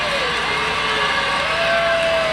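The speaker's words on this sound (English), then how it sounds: "The crowd saw that 10 first, and they were ready to explode" A crowd in a gymnastics arena cheers loudly for an Arkansas score against Oklahoma, a sustained dense roar with whoops and a rising shrill shout.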